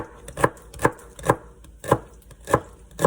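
A knife chops celery on the diagonal into small bite-sized pieces for a stir fry, six crisp, evenly spaced thuds on the board, close and clear, with quiet between the strokes and no voices.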